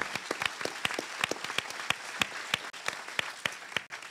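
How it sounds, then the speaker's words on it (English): Scattered clapping from an audience applauding Cardinal Tobin at a New Jersey Attorney General event, thin and sparse with individual claps standing out, fairly faint throughout. "So, can we have a round of applause for the Cardinal?"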